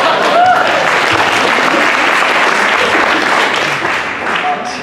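A Dragon Con panel audience claps and cheers loudly, a dense, steady wash of applause that fills the room and eases off slightly near the end.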